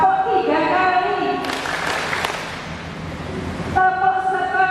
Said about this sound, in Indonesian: Tepuk 2 kali. Tepuk 3 kali.